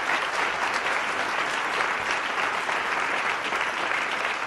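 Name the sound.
audience applauding after a debate answer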